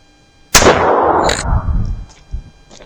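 A single loud, close gunshot from a .22 Sterling belly gun pistol with a 2-inch barrel, a sharp crack followed by a long rolling echo that fades into quiet outdoor ambience.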